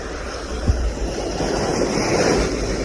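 Sea waves surge and wash steadily while fishing for snapper, mixed with wind buffeting the microphone and one brief thump, a continuous loud roar with no talk.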